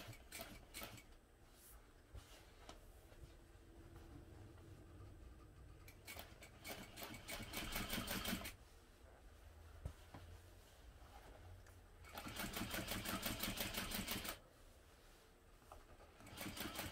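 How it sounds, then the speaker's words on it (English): A sewing machine topstitches a seam on a sewn garment, its quiet motor whirring faintly in a few bursts, with two louder, faster runs of stitching around the middle and near the end, with no voices. "And then we'll top stitch this as well, using a 1/8 inch seam allowance and pressing the seam allowance toward the bottom panel."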